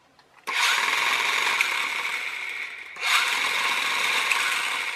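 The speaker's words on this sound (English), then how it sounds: "But if I use my left right, we're running the motor." The drive motor of an RC toy car, powered by a 2S LiPo through an H-bridge module, whines up sharply twice in two bursts with a brief dip between them, close and loud.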